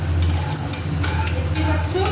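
Mustard seeds and dried red chillies crackle in hot oil for masala dosa tempering, a dense close sizzle with scattered pops, under a low background hum.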